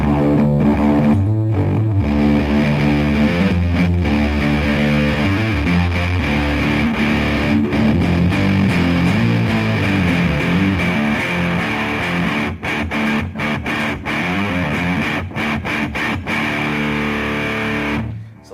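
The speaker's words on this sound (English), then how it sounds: "So that's distortion all the way down. It's still very, very raunchy." An electric guitar plays through a Wren & Cuff fuzz pedal with the distortion turned all the way down, still raunchy. Thick, gritty chords and notes ring out with brief pauses between phrases.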